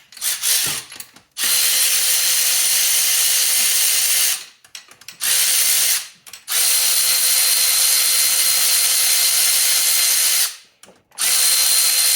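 Cylinder head bolts on a Polaris SPX triple jet ski engine being loosened with a power tool, loud close whirring bursts of several seconds each with short ratcheting gaps between them, and no talk.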